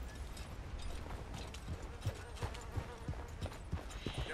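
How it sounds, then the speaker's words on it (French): Horse hooves clip-clop in a steady walking rhythm in the video game Red Dead Redemption 2, close and moderately quiet, with light creaking tack mixed in. "Oh, wow, wow, doucement, le cheval."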